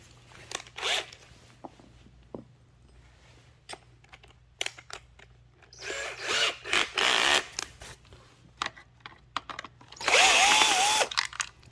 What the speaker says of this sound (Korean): 그 다음에 드라이버 3개 풀게요